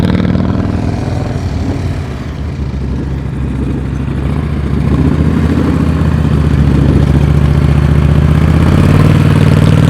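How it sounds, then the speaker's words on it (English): A motorcycle engine runs loud and steady close by, a constant throttle drone that swells slightly toward the end, with no talking. "I love a motorcycle that's loud like that. I can hear his throttle constant the whole time."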